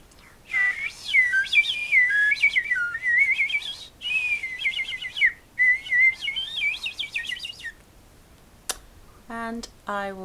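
A person whistles an imitation of a robin's song, a long run of rapid, warbling high phrases with brief pauses, followed by a few short sharp whistled notes at the end.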